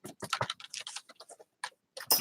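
Quick bursts of clicking keystrokes on a computer keyboard, close and crisp, rattling in uneven clusters with a short pause before a final flurry, no voices.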